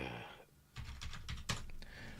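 Typing on a computer keyboard, a quick run of soft, close clicks and taps, faint overall with a muffled sound just before it.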